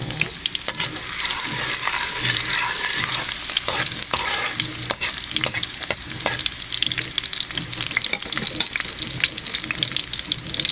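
Burong kanin, Filipino fermented rice, sizzles loudly as it is sautéed in a hot pan, with dense crackling spatter and repeated sharp scraping stir strokes close up and no voices.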